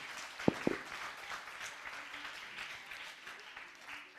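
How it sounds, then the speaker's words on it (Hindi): Audience applause at a bait bazi poetry competition, a broad continuous wash of many hands clapping at moderate distance, with a couple of sharp louder claps close by near the start. "जोरदार तालियां।"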